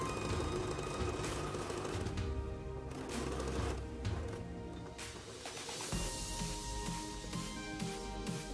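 A sewing machine stitches fabric on a right-angle corner seam in a dense, continuous mechanical whir, close and steady, with no talking.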